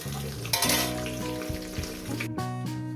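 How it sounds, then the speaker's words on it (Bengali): Fish pieces fry in hot oil in a kadai for a fish-head and taro-stolon chorchori, giving a steady close sizzle with a brief bubbling flare and a clatter as they are lifted out. "মাছটা ভাজা হয়ে গেছে থেকে আর মাছটাকে আমি তুলে নিচ্ছি"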